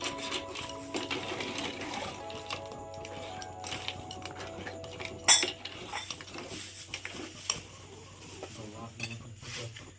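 A spoon clinks and scrapes in a pot while crab curry with tamarind pulp is stirred, in irregular metallic taps and scrapes with one louder knock midway, over a low background hum.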